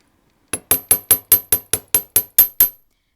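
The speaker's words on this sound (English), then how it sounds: "you're going to take your hammer and you're going to hammer this part flat" Eleven sharp metallic hammer strikes flattening earring wire land in a quick, even rhythm, close and loud, each ringing briefly against a hard surface.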